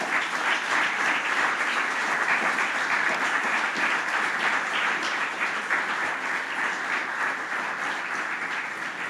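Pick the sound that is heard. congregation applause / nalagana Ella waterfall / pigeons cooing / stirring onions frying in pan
congregation applause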